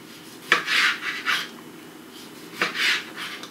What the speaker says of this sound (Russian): Куриное филе нужно нарезать небольшими полосочками.